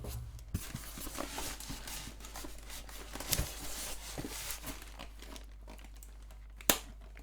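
Foam packing from a Cyberpunk 2077 Collector's Edition box crinkles and scrapes as it is pulled free, a soft continuous rustle with a few sharper crackles, quiet and close.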